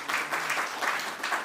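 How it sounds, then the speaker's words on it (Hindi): An audience at a stage play applauds a singer, brief dense clapping in slightly swelling waves, moderately loud and heard alone. "मैं चाहूँगा जोरदार तालियां उनके लिए बजाएं"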